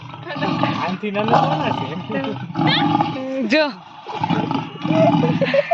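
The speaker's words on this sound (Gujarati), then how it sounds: "સિક્કા નાખો ને વાઘના ને સિંહના ને અવાજ સાંભળો" Recorded tiger and lion roars blast from a coin-operated machine at Khodaldham in Kagvad: several loud, rough, drawn-out roars in close succession, with people talking over and between them.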